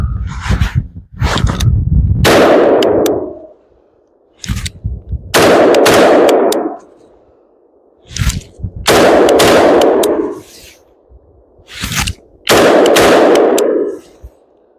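A suppressed 16-inch rifle fires a string of rounds, about seven sharp muffled reports in uneven pairs and singles, each followed by a brief ringing tail, loud and close, with no talk.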